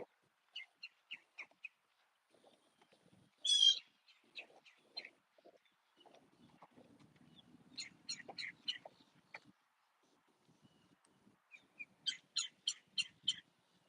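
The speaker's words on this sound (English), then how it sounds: "The birds are chirping." Birds call by a lake: scattered short chirps and a louder caw-like burst, then rapid repeated chirping notes, faint and distant over quiet outdoor ambience with no talking.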